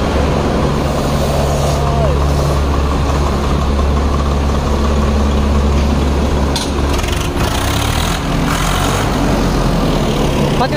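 A Swaraj 744 FE tractor rolls into a sugar mill yard, its heavy diesel engine idling and rumbling steadily and close for the whole stretch, with someone speaking over the low drone.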